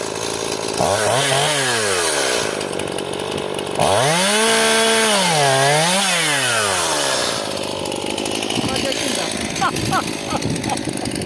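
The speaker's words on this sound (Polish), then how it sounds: "to jest taka pilarka do takiej brzozy, żaden fenomen, jeden z najmniejszych sztili" Small Stihl MS171 chainsaw cutting birch wood, loud and close: the engine revs up and falls back in two long sweeping bursts, then settles into a rougher, steadier run.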